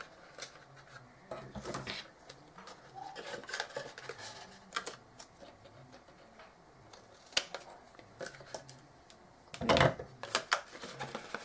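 Scissors snip and rasp through craft paper for an envelope matchbox project, with scattered close cuts and rustles and a louder burst of snipping near the end, no talk.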